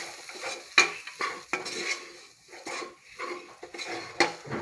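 Spice powders with pepper powder being stirred and roasted in a pan for pressure cooker chicken curry, a close, busy stretch of repeated metal spoon scrapes and clinks over a light sizzle, with no voices.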